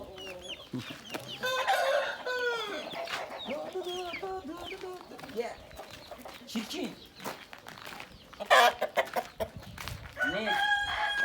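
Hens clucking and cackling close by in busy, overlapping bursts, with a rooster's crow and a few brief vocal sounds mixed in.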